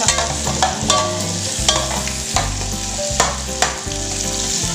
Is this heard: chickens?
no